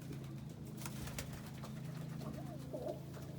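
Saddle homer pigeons in a loft give low, soft cooing calls, a continuous murmur close by with a few brief sharper sounds, no talking heard.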